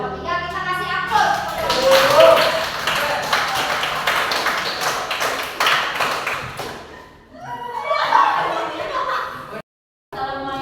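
Classroom applause for a student group after their presentation, a steady patter of many hands clapping that runs for several seconds, then tapers off and picks up again briefly near the end.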